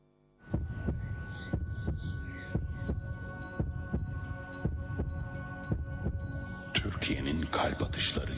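Heartbeat sound effect with a steady, deep, throbbing pulse about twice per second under a low hum, loud and close, swelling with denser, noisier texture toward the end.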